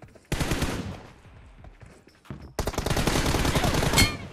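Bursts of rapid automatic gunfire in a shooter video game, a dense rattling volley, a quieter stretch, then a louder sustained barrage close by, with a voice talking faintly underneath.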